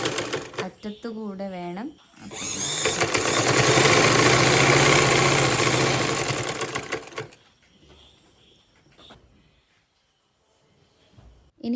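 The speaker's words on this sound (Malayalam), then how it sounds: "നമ്മൾ സ്റ്റിച്ച് ചെയ്തെടുക്കാം" A sewing machine stitches a black kurti panel with a loud, steady mechanical whir that runs for about five seconds after someone briefly speaks, then stops into near quiet.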